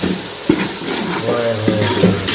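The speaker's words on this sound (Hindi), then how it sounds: "इधर जो है ना मसाला भूना जा रहा है" Masala frying in a pan, a loud continuous sizzle with scraping stirs and a couple of sharp utensil knocks, close and busy throughout.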